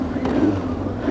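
A motorcycle engine hums at mid pitch as it is given some revs to pull away, rising slightly in a short burst, with a voice faintly mixed in.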